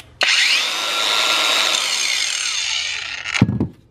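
Abeden 18V cordless angle grinder, a Makita-style knock-off, spins up sharply and runs at a steady high-pitched whine for about three seconds, then cuts off with a short clunk as it winds down.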